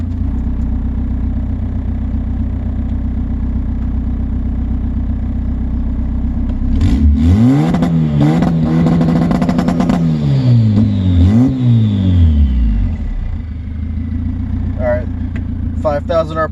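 A Honda D-series engine held at a straight 5,000 RPM on launch control, without anti-lag, idling steadily before climbing into a loud, stuttering, bouncing rev against the limiter for several seconds, then dropping back to a rough idle.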